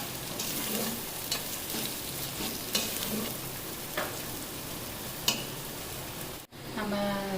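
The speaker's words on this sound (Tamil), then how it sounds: "இது எண்ணெயிலே வதக்கிடணும் நல்லா" Chilli powder and garam masala sizzling in hot oil while being stirred for tomato rice, a steady loud fry with occasional scraping stir strokes, close up and without speech.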